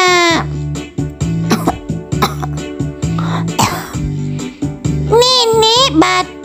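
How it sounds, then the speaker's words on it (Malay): An elderly grandmother coughs repeatedly, with several sharp, close coughing bursts and throat-clearing sounds in an uneven rhythm, and a higher voice briefly joins near the end. "Nenek batuk."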